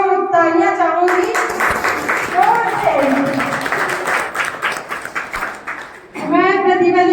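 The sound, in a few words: audience applause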